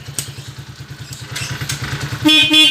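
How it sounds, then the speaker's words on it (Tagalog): A Motor Star 175cc motorcycle engine idles with a steady low putter, then a loud, buzzy horn sounds in two short bursts near the end. "May busina naman."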